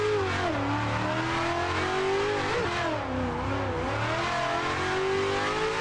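Car engine in Assetto Corsa drifting, holding a loud continuous drone with the pitch rising and dipping as the throttle is eased on and off, no talking over it.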